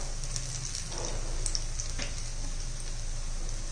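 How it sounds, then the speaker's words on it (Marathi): Chili bhaji fritters deep-frying in oil over a medium flame, a soft, steady crackling bubble like light rain, faint and even throughout. "छान अशी आपण भजी तळून घेऊया आता।"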